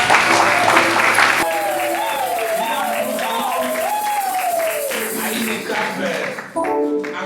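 A congregation applauds at a religious wedding, bursting into loud clapping that soon fades under a sung or chanted voice with some scattered claps.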